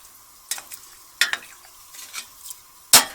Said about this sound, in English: Try and get those rosemary leaves stirred up in there.